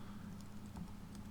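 Soft, quick taps on a computer keyboard while entering a command in an Ubuntu terminal, a light patter of keystrokes, quiet and close, with no talk.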